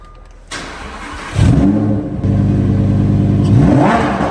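A Lamborghini engine fires up close by with a loud starter whir and bark, then settles into a deep, steady idle with brief blips of revving, all loud and alone with no talk.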